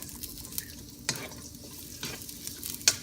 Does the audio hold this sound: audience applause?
no